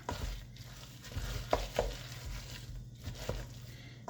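Chopped apples being stirred into fritter batter: soft, wet squelching and scraping strokes at an irregular pace, close and fairly quiet, with no talk.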